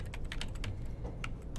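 Rapid typing on a computer keyboard, a quick irregular run of light key clicks close to the mic with no voice.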